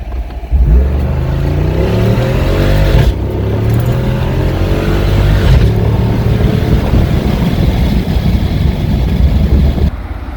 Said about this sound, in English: off-road plus, sport exhaust on